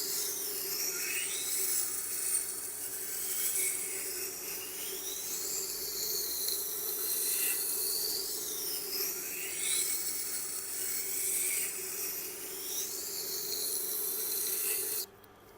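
Steady rasping strokes of a knife blade drawn along a sharpening stone, a smooth repeating back-and-forth rhythm close up and alone, stopping abruptly near the end.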